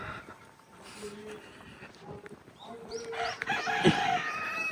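Chickens cluck and call in short bursts, fairly close, with a rooster-like cry near the end; faint background murmur throughout, on Jeju Island, South Korea.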